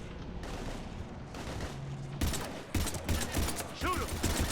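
Gunfire in Mass Effect 2 rattles in rapid bursts and single cracks, getting denser and louder toward the end over low background rumble, with a voice talking briefly.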